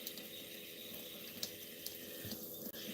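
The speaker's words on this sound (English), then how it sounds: "She would just drink right out of the faucet." Water runs from a kitchen or bathroom faucet in a steady splashing stream, close and fairly quiet, with a couple of small clinks and a brief interruption near the end.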